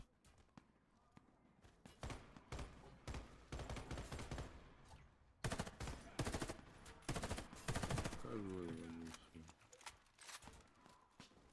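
Bursts of rapid automatic gunfire in the game Warface, coming in loud sustained volleys with brief pauses, while voices talk over the shooting.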